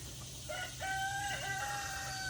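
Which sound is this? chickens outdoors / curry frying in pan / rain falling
chickens outdoors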